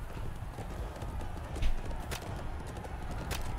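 A horse in the medieval combat video game Chivalry 2 gallops with steady hoof clip-clops under dense battle noise, fairly close and continuous.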